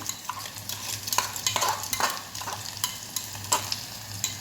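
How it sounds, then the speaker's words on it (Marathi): Ground spice paste is stirred into dill greens bhaji in a hot pan, with a soft sizzle under uneven scraping and clinking strokes of the spoon, close and without talk. "लगेचच वाटण घालून घ्यायचं आहे वाटण घातलं की मिक्स करायचं"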